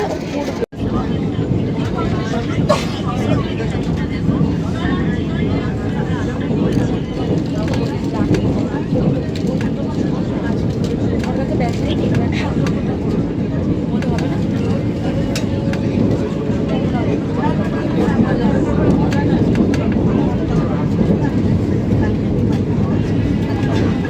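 The New Jalpaiguri to Howrah Vande Bharat Express runs at speed, heard from inside the coach as a steady broadband rumble and rush, with voices of passengers talking over it.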